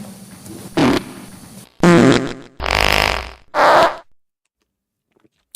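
Stream fart sound-effect alert: a series of loud, close farting noises in several separate bursts of differing length, the last ones wet and raspy, followed by quiet.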